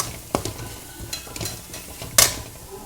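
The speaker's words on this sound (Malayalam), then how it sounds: "എന്നിട്ട് ഇതിലേക്ക് രണ്ട് സ്പൂണ് മുളക് പൊടി ഇട്ടിട്ടുണ്ട് എന്നിട്ട് നന്നായി ഇളക്കി യോജിപ്പിക്കുക" Chili powder fries with shallots and garlic in a pan as a spoon stirs it: a low, steady sizzle broken by two sharp scraping strokes against the pan, with no one speaking.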